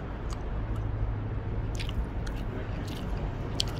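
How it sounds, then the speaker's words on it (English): Close-up chewing and biting on barbecue pork ribs, soft squishy mouth sounds with occasional crunchy clicks, alone at low level without talk. "as you can hear, I'm still chewing on these ribs"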